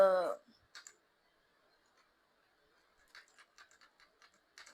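Soft clicking keystrokes on a computer keyboard, a short burst early then several quick clusters of light taps later, faint and close, after a brief voice at the start.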